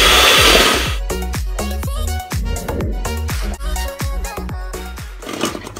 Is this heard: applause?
no